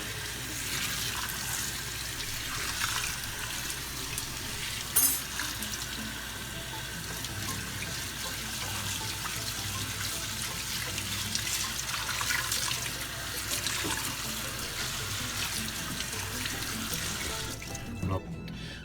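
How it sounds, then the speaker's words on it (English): Cold tap water runs steadily into a sink over hot rice noodles, a continuous close splashing hiss that lasts the whole time with small clatters near the end. "And we put a cold water because they are too hot."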